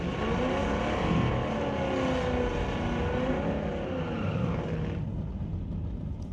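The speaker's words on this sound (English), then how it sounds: "Running the Ground Pounder Racing 1964 Falcon." 1964 Ford Falcon drag race car at a sportsman drag race, engine roaring loudly with rising revs as it launches down the strip, then fading off.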